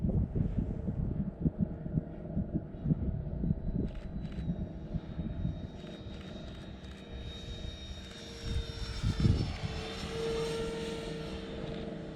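A radio-controlled model airplane engine drones steadily at about three-quarter throttle, its pitch rising and bending as the plane passes, with wind buffeting the microphone throughout.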